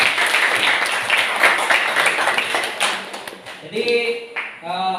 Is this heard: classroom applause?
yes